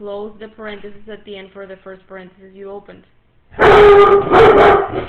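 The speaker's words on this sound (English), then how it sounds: "that was my dog barking like crazy." A scared dog barks loudly in a sudden burst of harsh, repeated barks right after a person's steady speech stops, close and louder than the voice.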